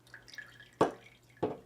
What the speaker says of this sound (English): Okay, pour in the fragrance oil